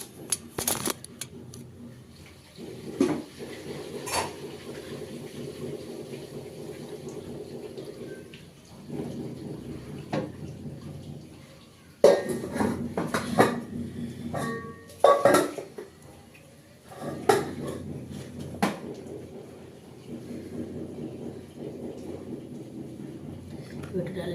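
Pots, pans and metal utensils clatter and scrape in a home kitchen as cooked rice is lifted off a hot stove, with lentils simmering nearby; the knocks come in irregular bursts over steady background noise, and someone talks at times.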